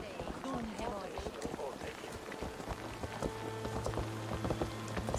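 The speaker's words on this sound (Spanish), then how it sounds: "Está lloviendo." Rain patters in the video game Assassin's Creed Valhalla, a steady hiss of drops on surfaces with scattered splashes and footsteps, fairly quiet under other game sounds and speech.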